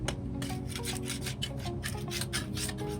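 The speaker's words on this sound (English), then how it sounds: "I'm sanding it down with 100 grit sandpaper" Sandpaper of 100 grit rasps over the old finish of a hot tub in quick, rhythmic back-and-forth strokes, close and steady, with no talking.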